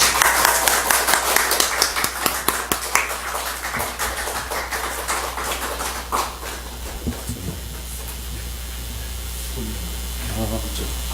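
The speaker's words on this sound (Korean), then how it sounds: "우리 남상수 목사님 나오실 때 환영의 박수 한번 보내주시면 감사하겠습니다." A church congregation claps to welcome a pastor at a spring revival meeting: dense, lively applause that thins out over several seconds into scattered claps and faint room noise.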